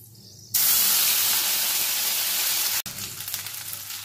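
Ginger and garlic paste hits hot spiced oil and bursts into a loud, sudden hiss of frying that holds steady, cuts off sharply, then settles back to a softer sizzle.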